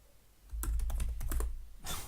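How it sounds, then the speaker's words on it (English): Keys clatter on a computer keyboard in a short burst of quick, close clicks, with a brief pause and one last cluster of taps, with no voices. "Gee, I wish I could type in this keyboard."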